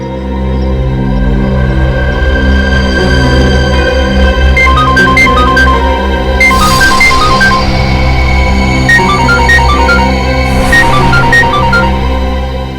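A mobile phone rings during a tense high-security operation drama, its repeated bright ringtone melody sounding loudly over a constant dense musical score with no talk.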